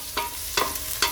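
Chopped garlic sizzles and fries in a hot pan for a vegan tomato, BBQ and chilli sauce, with three soft stirring swishes over a steady frying hiss.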